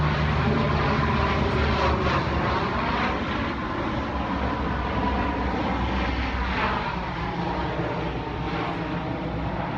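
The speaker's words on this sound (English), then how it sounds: "a big bomber just flew by" A big bomber airplane passing overhead gives a loud, continuous engine roar that fills the whole stretch, swelling slightly and then easing as it moves on, with no talk.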